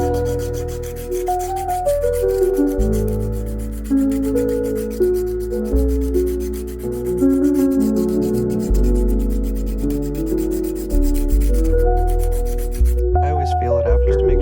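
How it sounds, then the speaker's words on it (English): A vintage ring gets fine-grit sanding passes, a rhythmic rasping rub repeated about once a second under tonal background sound, ending with a brief clatter. "Just some passes on the fine grit, and it's good to go."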